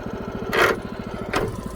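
A 212cc lawn tractor engine chugs at close range with the brush hog PTO engaged, a fast rhythmic putter broken by two brief louder bursts.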